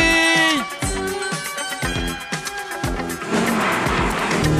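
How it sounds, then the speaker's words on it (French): The KITT car from the K2000 TV series drives at full turbo, with a sustained, loud engine and whooshing electronic tones that rise and fall, and a steady roar with no talking. "pousse tes turbo au maximum."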